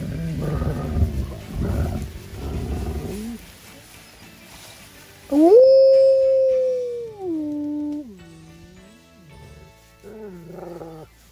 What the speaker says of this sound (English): So those are the 4 main reasons why wolves howl.